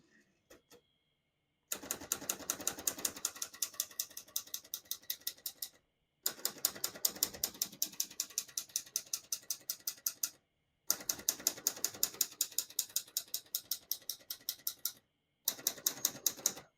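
Fast keystrokes clatter on a 1962 Olivetti Lettera 22 portable typewriter in four rapid bursts, each a crisp, evenly spaced run of sharp clicks, separated by brief pauses.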